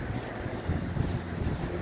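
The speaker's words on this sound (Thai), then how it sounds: "แต่ว่าพอออกมาด้านนอกเนี่ย มีลมพัดเห็นไหมคะ" Wind blows outdoors over summer fields in Germany as a steady, rushing hiss with low buffeting gusts against the microphone.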